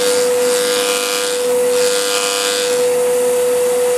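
A loud, steady high-pitched whine of a power sander running at 2,000 RPM on a box, with a rough abrasive hiss that swells and fades slightly throughout.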